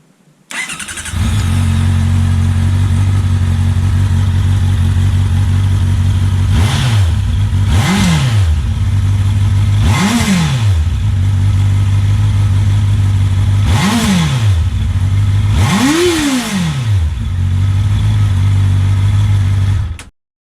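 A Honda CB650R motorcycle with an Arrow Thunder exhaust fitted, idling loud and close, then blipped in four or five sharp revs that rise and fall back to a steady, rumbling idle.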